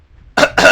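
A woman gives a quick cough as a signal: two sharp, loud, close bursts, one right after the other, with no talking.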